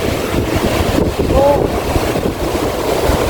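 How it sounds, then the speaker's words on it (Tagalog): Strong seaside wind roars across the microphone over crashing waves, a constant loud rush with a brief exclamation from a voice. "Super lakas ng hangin."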